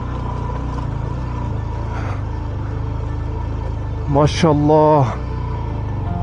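A motorbike engine drones steadily as it strains uphill over a rocky, landslide-strewn mountain road near Chitral, its low rumble continuous throughout, while someone briefly speaks over it near the end.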